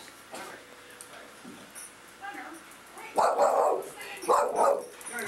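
A dog at a bakery gives a few short barks and yips in the second half, the loudest bursts close by and mixed with people chatting and greeting.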